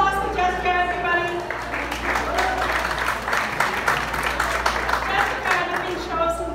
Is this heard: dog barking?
no